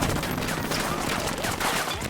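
Automatic gunfire in a Ghost Recon Wildlands cutscene, a loud, dense rattle of rapid shots filling the whole moment, close and unbroken.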